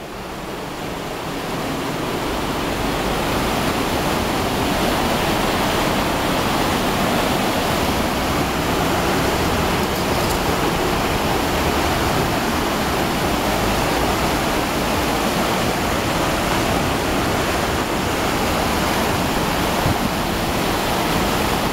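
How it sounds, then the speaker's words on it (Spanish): Water rushes powerfully between rock walls just before plunging over a waterfall on a via ferrata route, a dense, continuous roar that is loud and close and fills the whole clip with no voices. "la antesala de la cascada, donde las aguas discurren con fuerza entre paredes antes de desplomarse al vacío"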